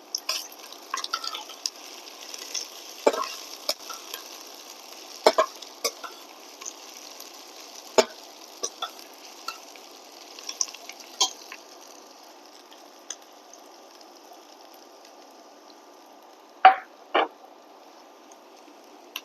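Chopped garlic cloves, four or five, sizzling in hot oil with broccoli, a soft steady hiss broken by scattered sharp crackles and a few louder pops near the end.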